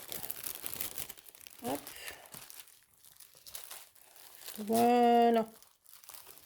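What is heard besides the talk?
small adhesive plastic sachet being handled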